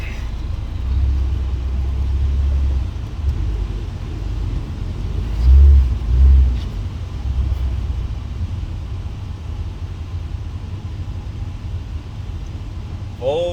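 A Volvo Turbo car idles and creeps along while being moved, a low steady engine rumble with a few brief throttle swells, heard near and fairly quiet.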